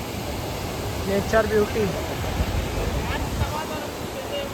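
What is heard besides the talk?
waterfall flowing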